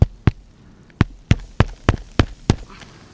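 Hammer driving a nail into a roof shingle, eight sharp close blows in an uneven but quickening rhythm, each strike a loud solid knock with no talking.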